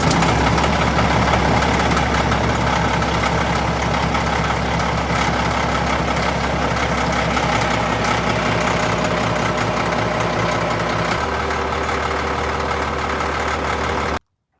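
A well-worn CAT D6 bulldozer's diesel engine idles while warming up after a cold start, a loud, steady low rumble with a knocking pulse that shifts tone near the end before cutting off abruptly.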